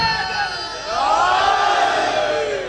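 A large crowd at a Chehlum religious gathering in Okara shouts a slogan in unison, a loud sustained roar of massed voices that rises and holds for several seconds.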